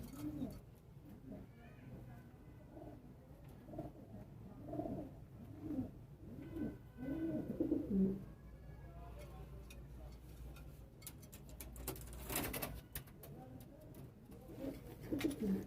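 A pigeon with eye pox coos repeatedly at close range in soft, rhythmic low phrases, with a few clicks and rustling bursts near the end.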